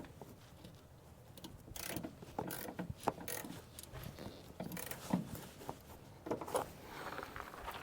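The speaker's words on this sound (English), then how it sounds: "while I've got the socket still on the extension, I might actually just try to loosen that and retighten it" Socket wrench on an extension working a bolt in a Suburban's engine bay, with irregular mechanical clicks and clunks spread through the clip at moderate level, no talking.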